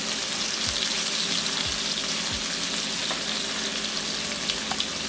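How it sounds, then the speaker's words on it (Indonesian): Shrimp fry in melted butter in a pan, a loud, steady close-up sizzle that stays constant throughout with faint scraping stirs and no talking. "menteganya saya tambah secukupnya untuk menggoreng udang ya"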